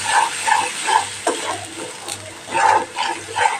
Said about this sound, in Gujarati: સરસ મસાલાને સાતળી લેવાનું આપણે